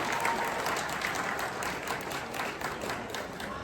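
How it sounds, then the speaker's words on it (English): Charity gala audience applause, a dense, even roar of many hands clapping in a large room, sustained at moderate loudness from start to finish. "Give her a round of applause, ladies and gentlemen."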